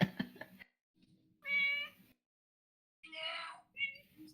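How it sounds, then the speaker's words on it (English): A pet cat meows twice, two clear drawn-out calls separated by a pause, with a shorter chirp at the end; brief talk and low background murmur come at the start. "Whose cat is that?"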